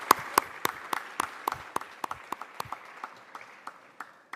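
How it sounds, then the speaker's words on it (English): At an Oxford Africa Conference 2025 panel, sparse audience applause for an arriving speaker sounds as distinct separate claps from a small number of people, crisp and close, slowing and softening over four seconds. "Please give her a round of applause."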